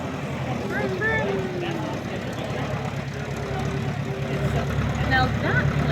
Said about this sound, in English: it didn't look like that prop was moving at all.